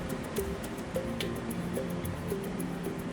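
A waterfall in the Animal Crossing: New Horizons video game gives a steady rushing wash of water, with soft dripping splashes on top and gentle chimes in the background.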